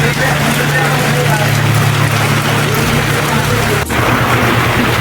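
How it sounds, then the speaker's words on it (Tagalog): Heavy typhoon rain pours in a dense, steady roar around a tricycle, with a low engine-like hum underneath that cuts out briefly near the end. "Lakas ng ulan, grabe oh."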